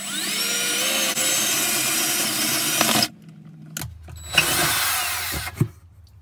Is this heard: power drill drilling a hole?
yes